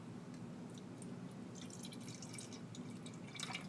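Water poured from a tap into a one-third measuring cup on a kitchen counter, a steady close trickle with light dripping and splashing, no voices.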